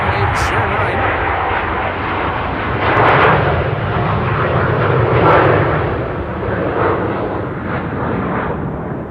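Wide-body airliner roaring as it takes off from runway 09 at Amsterdam Schiphol, a loud, broad, continuous jet engine rumble that swells and holds throughout.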